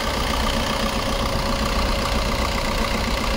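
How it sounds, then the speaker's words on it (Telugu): A 2018 Maruti Swift ZDI Plus diesel engine idles under an open bonnet, a steady close-up clatter and hum with a faint tonal whine, unbroken and alone. "ఇంజన్ సౌండ్ కూడా వినిపిస్తాను మీకు, అర్థమవుతుంది మీకు ఇక్కడ ఇంజన్ సౌండ్"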